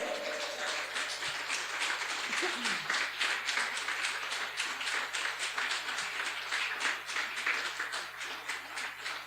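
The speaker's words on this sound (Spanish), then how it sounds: "dale un aplauso si te lo crees" Congregation clapping during a sermon, a moderate and fairly even patter of many hands that is slightly distant, with a few faint voices underneath.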